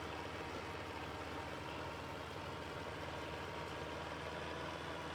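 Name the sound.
John Deere 3020 tractor engine pulling uphill, video game Farming Simulator 22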